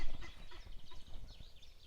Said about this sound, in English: bit of guinea fowl action over there